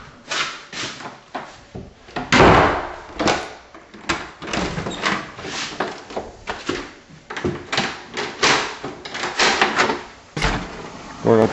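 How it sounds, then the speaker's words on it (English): The side door of a house opens and closes with a few sharp clunks and rattles up close, between footsteps and handling noise, while someone talks. "we'll go out the side door right here,"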